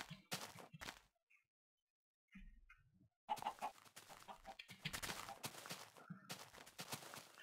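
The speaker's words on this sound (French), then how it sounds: "Oh, il y a un poulet là." Chicken clucks from the Minecraft video game come in short bursts amid bursty game sounds, with gaps of near silence in between.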